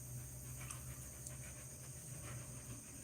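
Steady rhythmic panting from a dog nearby, a continuous breathy pulse under a constant hum of background noise.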